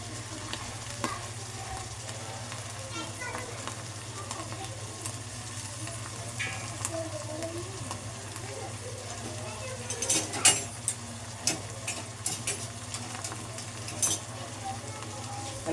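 Ginger garlic paste sizzles softly in a pan for pasta while being stirred, a low steady frying hiss with occasional spoon clinks and scrapes toward the end, under a constant background hum.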